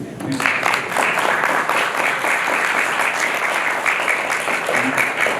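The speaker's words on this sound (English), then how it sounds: "let's clap for Youri" An audience claps for French football legend Youri Djorkaeff at a talk event, sustained, fairly loud applause running the whole stretch with a few faint voices mixed in.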